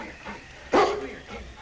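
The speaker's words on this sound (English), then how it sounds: "All right, King, on you Huskies" One sharp bark from a husky sled dog team in the Yukon stands out loud and near, briefly rising above a soft, noisy background.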